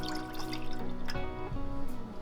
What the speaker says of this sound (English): And I'm gonna pour this half and half in there